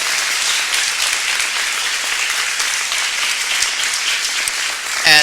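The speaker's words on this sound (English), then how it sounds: "let's give him a round of applause" Audience applause at a social media breakfast talk, a dense, steady wash of many hands clapping that runs throughout at close range and fades out abruptly at the very end.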